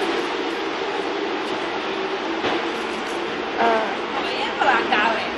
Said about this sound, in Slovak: dajte si tichšie video, lebo ten vlak dosť zvučí